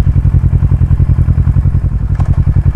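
A motorcycle engine chugs in rapid, even pulses as the clutch is slowly let out and throttle is given, loud and close with a slight rise in pace near the end.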